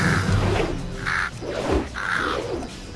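Crows caw from a World of Warcraft arena fight between a Fury Warrior and a Hunter, three distinct harsh calls spaced about a second apart over a steady game background.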